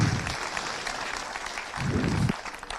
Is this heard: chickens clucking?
no